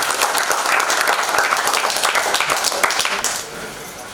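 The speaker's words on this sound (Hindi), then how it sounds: "एक बार जोरदार तालियां से" An audience at a theatre play's honouring ceremony applauds loudly and continuously, the clapping tapering off toward the end with faint voices underneath.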